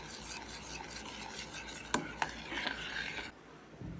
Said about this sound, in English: Gonna keep on stirring it